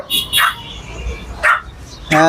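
A two-and-a-half-month-old bicolour puppy of an English breed at an animal market in Dhaka gives a few short, sharp barks in quick bursts, close by, with a voice heard near the end.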